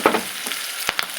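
Ginger and onions frying in a pan for a paneer curry, a faint sizzle with a few sharp scraping stirs of a spoon, no voices.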